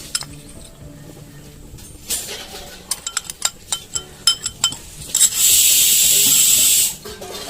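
Spoon scraping and clinking against a pan while duck roast gravy with pepper powder is stirred, a string of sharp metallic taps followed by a loud steady sizzling hiss, close up and without speech.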